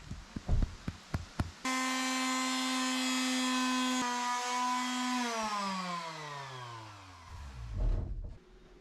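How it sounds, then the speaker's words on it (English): Power sander worked against wooden bunk bed posts, a loud steady whine starting after a few knocks, holding then winding down as the motor slows and stops. "Today I'm sanding down the 4 posts."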